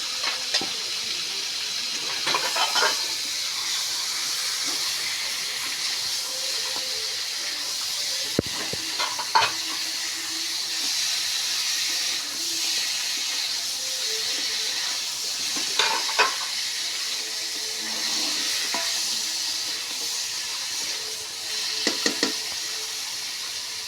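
Continuous sizzling as desi chicken, potatoes and pointed gourd fry together, broken by occasional scraping and clattering of a spatula stirring the pan.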